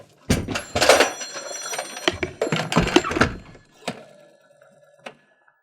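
An old-style telephone rings indoors in a drama scene with several bright, clattering bursts of bell, followed by a few softer knocks and a fading ring as it quiets.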